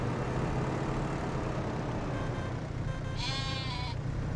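Sheep in Farming Simulator 25 give a single clear bleat near the end over a steady low engine-like rumble.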